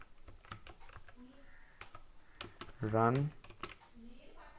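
Computer keys clatter in quick, uneven bursts as a command is typed into a terminal to launch a Streamlit app, close and clear beneath a man's speech.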